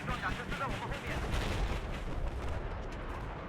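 A Battlefield 4 air strike blowing apart an LAV armored vehicle: a dense, sustained rumble of cannon fire and explosions, loud and unbroken throughout.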